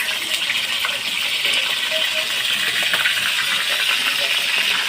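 Steady, fairly loud sizzling and crackling of food frying in hot oil, a continuous hiss with small pops throughout and no talking.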